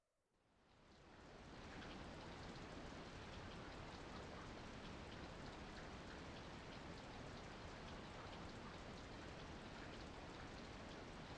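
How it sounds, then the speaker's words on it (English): Steady rain in Skies of Arcadia: Legends, rising over the first second or two into a dense, even hiss of falling drops that holds at full strength with no voices. "Well, it's been raining all day."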